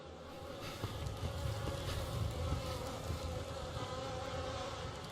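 Bees swarm and buzz in the video game The Fidelio Incident, near a foul-smelling pool of water: a steady, dense droning hum that holds at an even level throughout, with no one talking.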